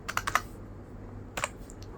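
A computer keyboard is typed on in two short bursts of quick, close clicks separated by a pause, with no talking.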